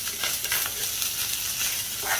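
Fried rice with vegetables being mixed in an oiled pan, a soft steady sizzle with light scraping from stirring, brief and close.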